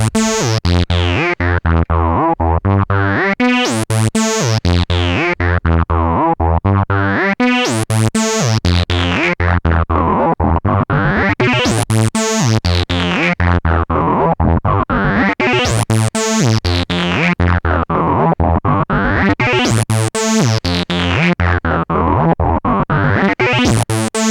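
A Korg Monologue synthesizer plays a looping sequence with slides, its tone swept by a super fast LFO into bright, rising and falling waves. The sound is loud, steady and repeating, with no voices.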